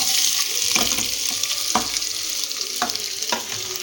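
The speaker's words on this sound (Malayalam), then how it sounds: "സവാള ഇട്ട് കൊടുക്കാം കേട്ടോ" Sliced onions fry in hot oil for egg biryani, giving a continuous close sizzle broken by several sharp stirring scrapes and clanks at irregular intervals.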